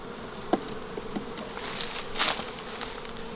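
Honey bees hum continuously as a colony is transferred from a swarm trap into a hive box outdoors, a close, dense buzz with a few brief knocks and louder flybys.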